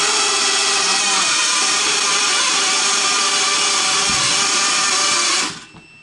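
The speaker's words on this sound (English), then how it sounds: "Propellers are moving. Now I'm hitting the takeoff button. And it's taking off." Propellers on a toy drone whir at a loud, steady, high-pitched buzz during takeoff, close by and alone. The whine cuts off abruptly near the end.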